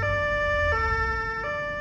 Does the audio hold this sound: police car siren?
yes